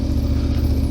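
KTM 1290 Super Adventure motorcycle engine running steadily on an on- and off-road tour in Sardinia, a loud, close, continuous low throb with a pulsing rhythm and no voices over it.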